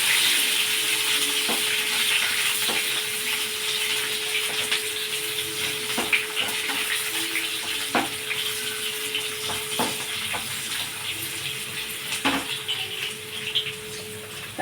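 Ginger, green chilies and onion frying in a tempering for radish sambar, a continuous bright hiss of hot oil with occasional light clicks of a spoon, close and steady throughout.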